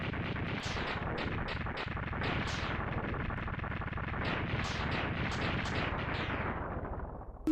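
The Gravity Beetle boss explodes in the video game Mega Man X3, a dense, steady run of repeated retro blast bursts lasting several seconds at an even level.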